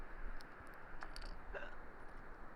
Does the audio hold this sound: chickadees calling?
no